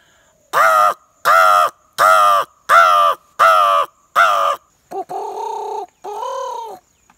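A man imitates a crow's caw with his voice, giving six loud, evenly spaced harsh calls close up, followed by two shorter, softer squawks.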